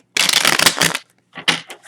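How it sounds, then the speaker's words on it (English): Tarot cards being shuffled close by, one long dense riffle of papery flutter followed after a short pause by a second, briefer burst. "I'm going to give it two more shuffles"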